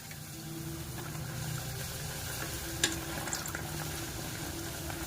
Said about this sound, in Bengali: লুচিটা কি করে ফুলকো ফুলকো ভাজা হচ্ছে